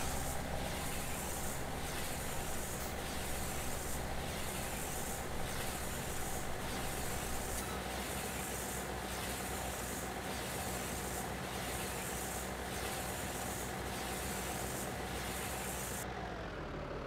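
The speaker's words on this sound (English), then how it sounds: "if you listen to the tractor, you can hear how it revs the engine when it's wrapping" A tractor in a farming simulation game runs continuously while wrapping bales, its engine a steady low drone with faint periodic surges as it revs, heard alone at moderate distance until it cuts off at the end.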